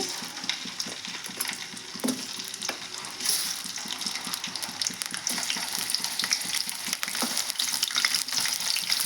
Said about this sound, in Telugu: ఇవైతే ఆయిల్లో బాగా ఫ్రై చేస్తానండి